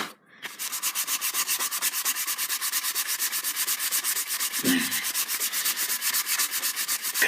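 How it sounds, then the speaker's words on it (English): Metal sandpaper rasping across a plastic Nerf Mega Magnus gun in quick, even back-and-forth strokes, loud and close, with one brief knock partway through. "Because we have metal sandpaper, so it chunks through plastic pretty easily,"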